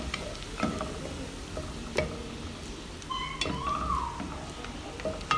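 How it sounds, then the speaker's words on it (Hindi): Sliced onions fry in hot oil for a Shimla mirch aloo qeema while a spoon stirs them, giving a soft steady sizzle with scattered scraping clicks and taps up close. "जैसे ही ये प्याज ऑयल में भून जाएगी, हमारी गोल्डन ब्राउनिश हो जाएगी"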